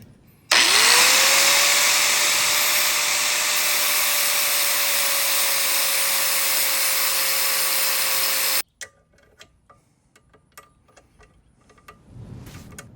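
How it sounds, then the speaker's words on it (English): A die grinder whines up to a steady high pitch as it grinds down a metal socket, running loud and close for about eight seconds, then cuts out, leaving faint clicks and handling noises. "We're gonna have to flatten down with the die grinder until it slides onto this"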